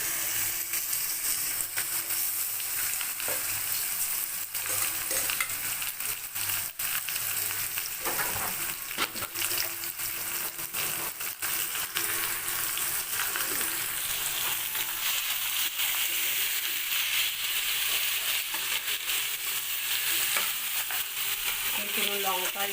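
Chicken cooking with whole spices in a pan, a continuous hissing sizzle heard close up, with occasional stirring scrapes and clinks, no talk.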